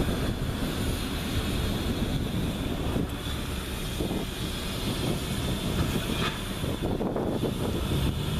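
A locomotive rolls down the track, a broad, steady rumble with wind noise on the microphone, close and continuous with no talk.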